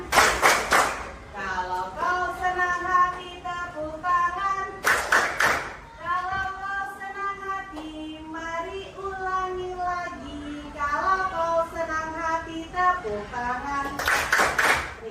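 Children clap their hands in short bursts during a classroom ice-breaking song, the rhythmic clapping breaking in between stretches of sung melody led by a voice, with the young voices joining.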